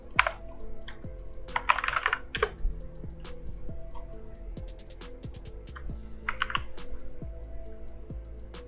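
Someone types code on a computer keyboard, giving a busy, irregular run of close, crisp key clicks over a steady low hum, with no talking.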